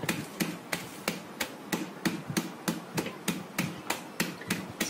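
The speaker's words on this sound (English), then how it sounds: "So just pound them like this with a rolling pin." Hazelnuts in a closed bag are pounded with a rolling pin. About fifteen sharp, evenly spaced thuds strike at a brisk steady rhythm, close and fairly loud, with no talking.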